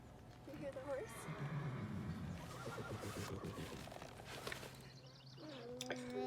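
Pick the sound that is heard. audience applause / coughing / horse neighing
horse neighing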